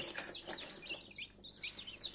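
Newly hatched Spanish chicks in an incubator give a dense run of high, thin peeps, many overlapping at close range with no voices.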